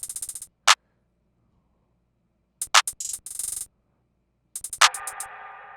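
Bouncy programmed hi-hats tick in short clustered bursts while a bright clap cracks on each phrase, the last clap leaving a lingering ringing tail; dry, close and isolated, with silence between the groups.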